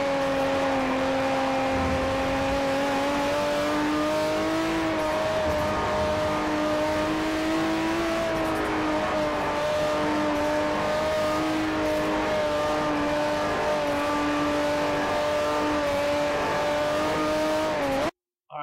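A race car engine holds steady in fourth gear at Le Mans in the video game Forza 4, with a loud continuous harmonic drone that dips and rises slightly under throttle control for about eighteen seconds before cutting off.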